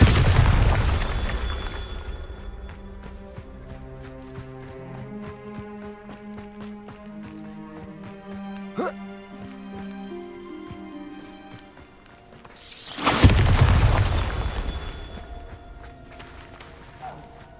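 A Bombarda explosion spell goes off in Hogwarts Legacy, two heavy booming blasts, one at the start and a louder one near the end, with footsteps and faint game sounds in between.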